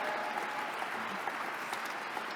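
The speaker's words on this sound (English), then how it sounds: "Give her a round of applause" A round of applause at an annual dinner honoring US Congresswoman Barbara Lee, heard as quiet, continuous clapping from a banquet crowd in a large room, somewhat distant and soft.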